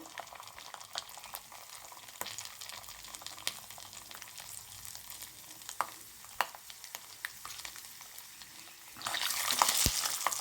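Peanuts roasting in a pan for a jowar upma, giving a steady soft crackle and sizzle with scattered stirring taps, which swells into louder frying near the end.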